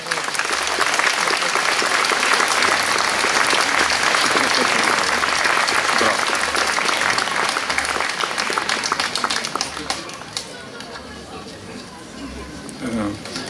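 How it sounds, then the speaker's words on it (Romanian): Applause from an outdoor audience at an award presentation during a vocal-symphonic concert in a city park, a loud, sustained crowd clapping with murmured chatter mixed in, thinning toward the end. "Vă rog să-i aplaudați!"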